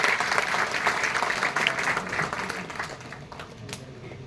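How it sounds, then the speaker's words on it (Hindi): Loud, sustained applause from an audience welcoming a speaker onto the stage at an award ceremony, dense clapping that holds steady and tapers slightly over four seconds. "एक बार जोरदार तालियां बजाकर स्वागत करें।"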